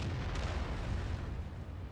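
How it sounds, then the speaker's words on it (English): Artillery shell bursting in the tank game World of Tanks, a dense, loud rumbling blast with a brief sharper crack near the start, rolling on as a continuous low roar. "And artillery is still shooting for us."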